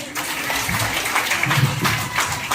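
Children clapping in applause at a school good touch bad touch awareness session, a dense continuous patter of many hands, fairly loud and steady throughout.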